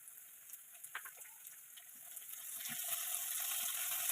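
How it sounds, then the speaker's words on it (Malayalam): Curry leaves dropped into hot oil with chilli powder in a pan set up a sizzle that starts with a few crackling pops and builds into a steady, louder fizz, with no talking. "ഞാൻ അതിലേക്ക് നമ്മൾ കറിവേപ്പില ഇട്ട് കൊടുക്കുകയാണ്"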